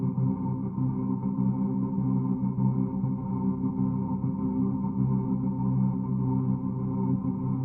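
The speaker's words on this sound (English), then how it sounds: "they have been used around the world as air raid sirens" An air raid siren sounds as a steady, unwavering droning wail rich in harmonics, held at a constant pitch and moderate level throughout, with no voices.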